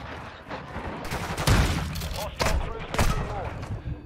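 Shotgun blasts in Call of Duty: Modern Warfare II, several loud booming shots spaced irregularly over dense gameplay gunfire and action noise, with a voice talking underneath.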